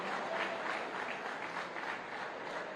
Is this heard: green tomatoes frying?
no